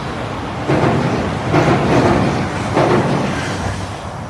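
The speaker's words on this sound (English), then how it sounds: "There goes the train overhead." A train rumbles across tracks directly above a pedestrian underpass in Japan. The steady, echoing roar is broken by periodic heavier thumps as the cars roll over the rail joints overhead.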